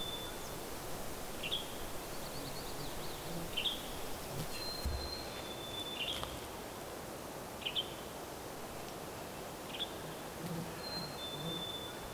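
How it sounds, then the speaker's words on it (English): Birds at an evening truck camp in the Sierra Nevada give short, thin, high chirps every couple of seconds, faint and somewhat distant over a soft hiss of ambient rustle. "We're just listening to the birds."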